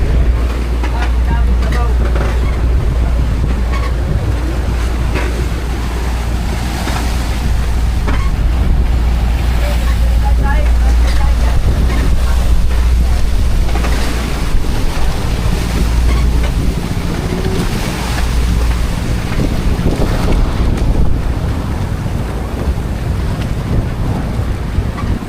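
Sea waves of four to five feet wash and slap around a boat while strong wind buffets the microphone, a constant loud roar with no clear speech.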